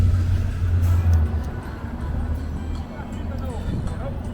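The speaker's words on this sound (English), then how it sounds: "If that bus wasn't pulling out so quick" A city bus on a Brooklyn avenue pulls away from the curb, a close low engine rumble that swells at first and then eases off under steady street noise, with a person talking nearby.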